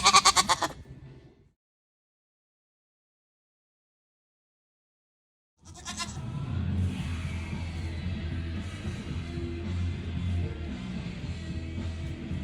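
A goat in rut bleats loudly and close by twice, with a short cry at the start and another after a silent gap, followed by steady low background noise.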